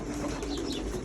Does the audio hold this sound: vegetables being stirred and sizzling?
no